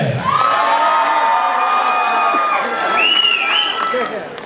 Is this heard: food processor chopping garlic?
no